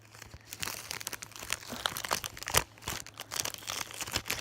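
Plastic packaging inside a balloon surprise being handled, close, irregular crinkling and crackling with sharper bursts, no talking.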